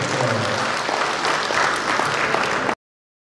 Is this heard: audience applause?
yes